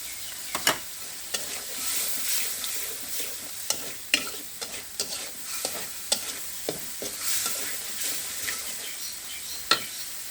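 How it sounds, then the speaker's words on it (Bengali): Small shrimp fried in spice paste in a pan, a spoon stirring with irregular sharp scrapes and clicks over a continuous low sizzle, close and moderately loud. "এখন আমি এতে চিংড়ি মাছটা দিয়ে দিচ্ছি।"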